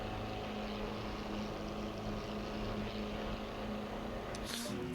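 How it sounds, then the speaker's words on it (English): A McLaren race car in the Assetto Corsa Competizione racing game runs with an unhealthy, rough engine note at Mount Panorama, Bathurst, a continuous droning buzz that holds steady, with a brief hiss near the end. "Well, that McLaren does not sound healthy."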